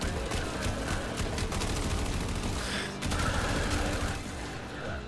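Sustained automatic weapon fire in the Warframe 1999 demo, a fast rattling stream of shots with a short break near the middle, loud and close over game sounds.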